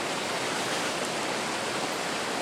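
Broad, steady rush of river water flowing without letup, close and fairly loud, filling the whole stretch like a constant wash.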